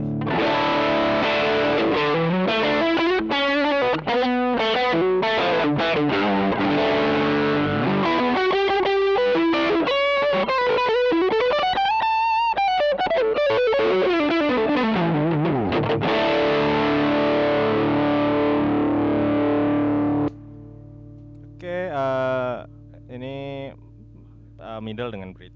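Cort G260 electric guitar with upgraded pickups, played through heavy distortion on the bridge humbucker: loud, sustained chords and riffs with bending notes, ending in a quieter stretch of single notes.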